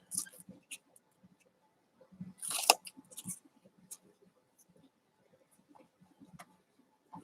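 Scissors snip out fabric patches in a quiet room, giving sparse, soft clicks and short crisp cuts scattered at an irregular pace, with one louder cluster of snips near the middle.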